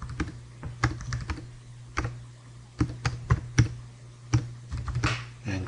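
Fingers tap out a date range on a computer keyboard, giving a quick, irregular series of crisp key clicks with small bursts and brief pauses, close and clear, with no voices.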